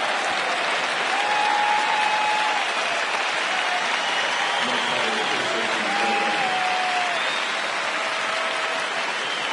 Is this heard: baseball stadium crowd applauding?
yes